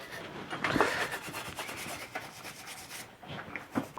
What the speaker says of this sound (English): Get all these brake mounts cleaned.